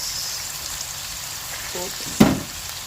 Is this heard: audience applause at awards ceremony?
no